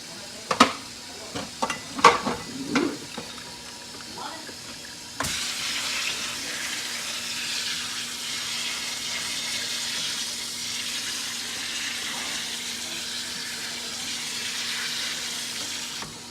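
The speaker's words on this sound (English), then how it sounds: "we're gonna be putting cold water on it" Cold tap water running over cooked food in a kitchen strainer, a steady hiss and splash that starts abruptly after a few brief clatters and continues evenly to the end.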